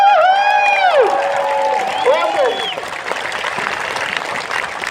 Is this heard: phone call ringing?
no